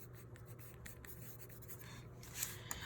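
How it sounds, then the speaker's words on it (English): Hand-writing a name during a classroom lesson, with quick soft scratchy strokes of a writing tool, close and faint, ending in a couple of sharper short scrapes. "And I gotta write my name."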